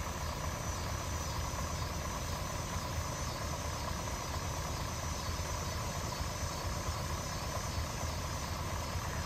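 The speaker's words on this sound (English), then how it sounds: "So this is what the car sounds like in drive. It has like a rocking and pinging sound," A 1963 Lincoln engine runs steadily in drive, giving a continuous low rumbling drone with a faint rocking, pinging undertone, heard close and alone for the whole stretch.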